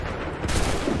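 Soldiers in Assassin's Creed III fire a musket volley, a sudden dense crack and roar of many shots together that rumbles on through the rest of the moment, loud and near.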